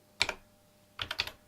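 Keys pressed on a Siemens PC 100 computer keyboard, one crisp click followed a moment later by a quick pair of clacks, close and fairly quiet with no voices.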